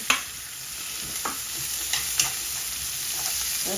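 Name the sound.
garlic and ginger sautéing in pan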